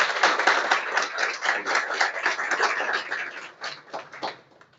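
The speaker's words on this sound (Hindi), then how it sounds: "एक बार पिताजी का जोरदार ताली बजाइए।" An audience gives the father loud, sustained applause at a toppers' interview event in Bihar, dense clapping that fades out toward the end.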